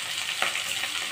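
Chana dal and green chilies frying in oil for upma, a steady soft sizzle with a faint stirring scrape partway through, close by and alone.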